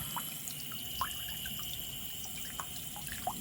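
Water runs in a stone irrigation channel at a temple with rocks and a dragon figure, a steady faint wash with a few soft drips standing out.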